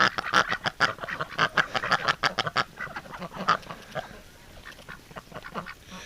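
Several ducks quack in a busy, overlapping chorus outdoors in winter, loud and close at first, then thinning out and growing fainter toward the end.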